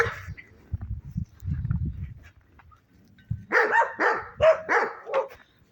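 A dog barks in a quick series of loud, close barks after a stretch of low rustling and handling noise.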